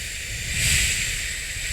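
Hapé tobacco snuff administered with a boa blow, a steady breathy hiss of exhaled air sustained through the clip, close and fairly loud with no talk.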